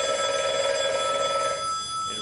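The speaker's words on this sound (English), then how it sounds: "Then that phone started to ring again." A telephone bell rings in a sustained bright trill that fades out near the end, fairly faint against a quiet background with no talking.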